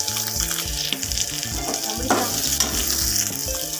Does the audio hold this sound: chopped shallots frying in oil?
yes